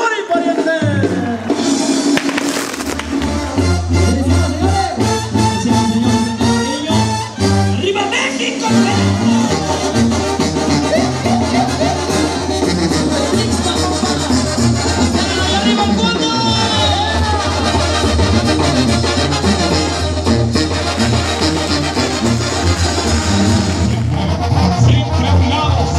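Loud, continuous brass fanfare (a diana) with applause and crowd noise at a rodeo at Rancho San Miguel in Tepetlixpa, the dense band sound unbroken for the whole stretch.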